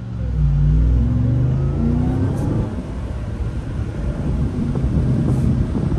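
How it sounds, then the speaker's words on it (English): A Ram TRX Launch Edition pickup truck accelerates with a deep engine roar heard from inside the cab. Wind rush builds over the low, steady rumble, and the pitch climbs early on before leveling off. "We are in the Ram TRX, and uh, we are going to give her some gas."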